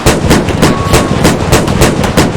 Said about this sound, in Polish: słyszałem wystrzał z armaty czołgowej